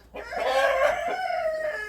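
A rooster lets out a long, drawn-out call up close, a single sustained vocalization with a slight rise and fall, no talking.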